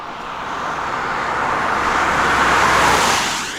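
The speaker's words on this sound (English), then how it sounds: "Here we are with this speeder around the corner." A speeding car sweeps around a street corner, its engine and tyre roar swelling steadily to a loud peak close by before beginning to fade, with no voices.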